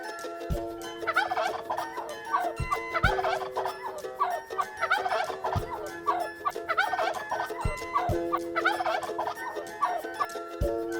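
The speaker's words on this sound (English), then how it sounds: "Turkey." A turkey gobbles loudly in repeated bursts of rapid, warbling calls, close and clear, with a few sharp clicks between them.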